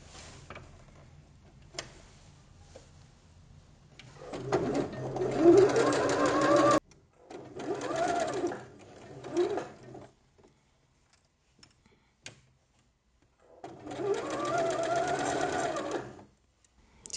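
A sewing machine runs in three separate bursts while stitching a summer dress seam, each a rapid mechanical rattle of a few seconds with quiet pauses between, close and clear.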